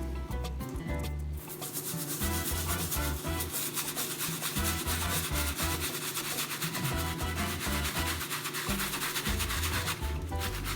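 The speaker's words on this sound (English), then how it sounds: "And then the direction says to dip the brush back into the bowl. And then to start scrubbing." A brush dipped in Jason Markk cleaning solution scrubs a synthetic shoe with continuous rapid, raspy back-and-forth strokes, close and fairly quiet, with a slight pause early on.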